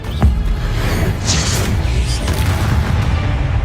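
Fire spells burst with deep booms and whooshing flames during Hogwarts Legacy gameplay, one sharp blast followed by sustained rumbling fire and further swishes.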